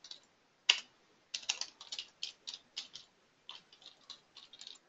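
Typing on a computer keyboard while editing an association's invoice text: quick, crisp key clicks in short irregular bursts, close and fairly quiet, with no voices.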